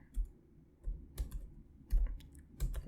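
Computer keyboard being typed on while entering a database command on an Ubuntu server, a few separate key clicks and short bursts of keystrokes, close and fairly quiet with no talk.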